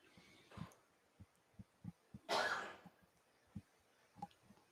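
A single short sneeze bursts out sharply amid the low murmur and soft clicks of a pool hall during a professional 9-ball match, moderately close.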